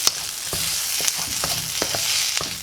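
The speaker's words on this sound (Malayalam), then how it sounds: "ഒരല്പം കറിവേപ്പിലയും കൂടി ഇതിലേക്ക് ആഡ് ചെയ്ത് ഒന്ന് ജസ്റ്റ് ഒന്ന് ഇളക്കിയെടുത്ത്" Soya chunks fry with curry leaves in a pan, a dense, loud sizzle running throughout, with sharp spoon scrapes and taps every half second or so, close up and without any talk.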